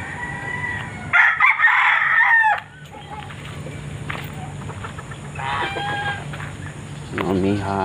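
Backyard chickens cluck while a rooster crows loudly nearby, with bursts of crowing and calling over a steady farmyard hum and a little talk in the background.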